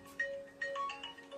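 A mobile phone ringtone plays a repeating electronic melody, faint and steady, in a home where family members are sorting gifts.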